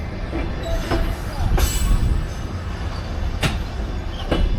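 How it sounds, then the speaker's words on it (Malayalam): A local train starts moving out of Kutaisi, Georgia, its carriage rumbling steadily with sharp clanks and rail clicks every second or so, heard from inside. "ഇപ്പോൾ വണ്ടി മൂവ് ആയിട്ടുണ്ട്. കുത്തൈസിയിൽ നിന്ന് വണ്ടി മൂവായി."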